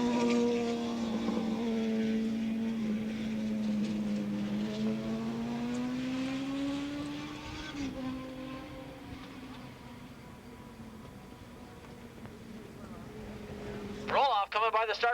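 A 750cc modified production racing motorcycle passes the start-finish line at Willow Springs, a long droning engine whine that rises and falls, with a race commentator talking over it and a sharp burst of noise at the end.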